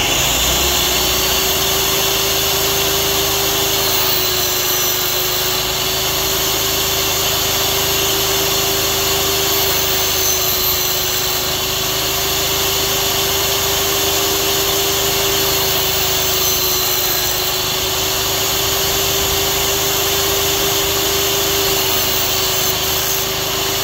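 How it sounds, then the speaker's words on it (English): A power saw cuts through a Sven's saw sleeve for a 6-inch frame, its steady high whine and grinding drone running loud and unbroken throughout, with no speech. "When I'm sliding the sleeve across the saw here, you got to make sure you hold it tight against the guide, and you're going to slide it straight across."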